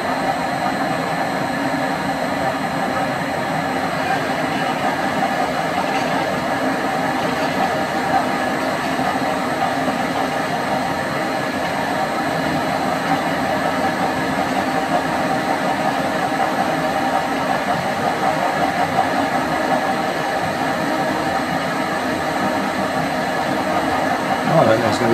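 A metal lathe taking a full-diameter cut at raised RPM, a loud continuous whine and hum that holds steady and unbroken throughout, with brief talk over it.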